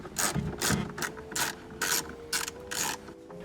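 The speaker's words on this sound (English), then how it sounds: "There are 4 bolts holding the head unit in, 2 on either side, so those were removed too." A ratchet wrench removes the bolts holding the head unit in a Subaru BRZ, clicking in about seven short, close bursts with brief pauses between them.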